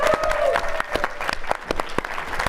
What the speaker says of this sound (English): she should get some applause